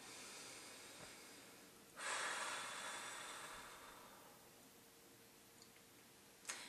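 A long, deep breath is drawn in and let out close to the microphone, a soft airy rush that swells suddenly and slowly fades, followed by a few faint clicks near the end in otherwise quiet surroundings.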